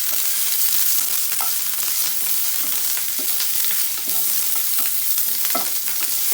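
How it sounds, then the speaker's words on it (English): Onion with curry leaves roasting in a pan for mixed vegetable sambar: a steady, bright sizzle of hot oil throughout, with occasional soft spoon stirs and scrapes, close and continuous with no talking. "We will roast this onion till they are translucent."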